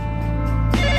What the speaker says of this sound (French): Mon téléphone a sonné vers 1 ou 2 heures du matin.